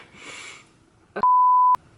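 Following a breathy exhale, a single loud electronic beep sounds, a pure steady tone lasting about half a second, as a phone alarm goes off.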